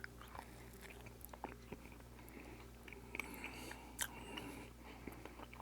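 Someone chews food with Marmite yeast extract close to the microphone, soft crunching and wet bites in an uneven rhythm over a low background hum, with no talking.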